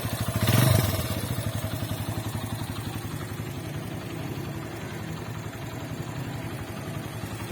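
A Suzuki GS 150 SE motorcycle idles close by with a steady, even low thrum and light mechanical clatter after a brief louder burst at start-up, with no talking.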